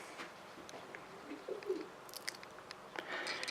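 A racing pigeon hen coos softly in a loft, with a few faint, low murmuring calls among quiet rustling.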